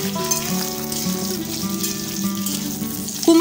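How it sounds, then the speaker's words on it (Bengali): Diced pointed gourd and pumpkin fry in oil in a pan for a Bengali curry, a steady close sizzle and crackle with a brief clatter at the end, no voices. "পটল 3-4 মিনিট ভাজার পর কেটে রাখা কুমড়োটাও দিয়ে দিলাম।"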